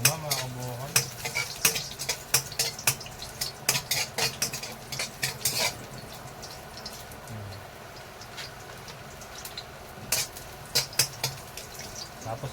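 Ginger fries in a pan for chicken tinola, a soft sizzle under repeated sharp clinks and scrapes of a utensil stirring, with a voice talking now and then.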